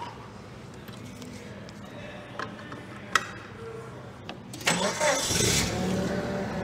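A Yale-Sumitomo FG20 4,000 lb gasoline forklift engine cranks with a few ticks and clicks, then catches and runs louder at close range over a low background rumble.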